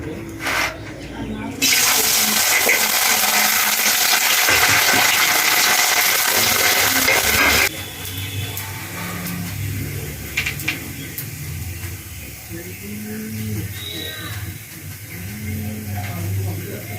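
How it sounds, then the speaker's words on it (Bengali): Lentil badi dumplings fry in hot oil in a kadai on a gas stove, a loud steady bubbling sizzle that swells sharply for several seconds, then settles to a softer crackle with faint voices and kitchen sounds. "আমি এবার একটু একটু করে বড়িগুলো ভেজে নেব"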